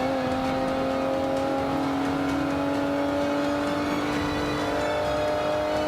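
Car engine in Forza Motorsport 5 video game holding a loud, steady high-revving drone with a smooth whine that rises slightly, with no talk over it.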